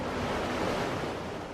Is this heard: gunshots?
no